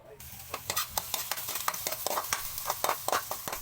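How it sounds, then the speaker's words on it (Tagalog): Pork, garlic and onion sautéing for dinuguan: a soft sizzle in the pan under repeated quick scrapes and taps of a spatula stirring at a steady rhythm, close and fairly quiet. "Magigisa na tayo."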